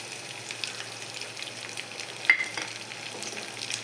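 Curry leaves sizzle in hot oil for a Telugu ridge gourd peel chutney, a steady close crackle with one sharper pop midway and no talk over it.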